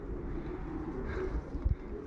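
Racing pigeon cooing softly at the loft, low murmuring coos under steady background noise, with a slightly louder pair of coos near the end.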